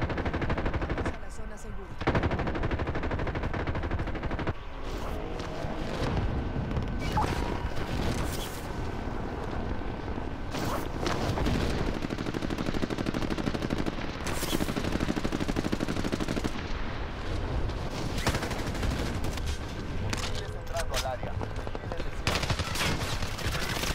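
Sustained automatic gunfire and bursts of shots from a video game shooter in an extreme resurgence mode, loud and nearly continuous throughout, with occasional booms and voices talking over it.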